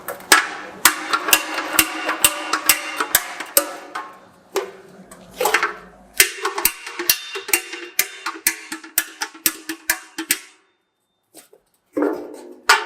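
A hammer strikes a forged bangjja brass gong being straightened after quenching, with rapid, loud, sharp metallic blows that come in bursts and brief pauses, all close by.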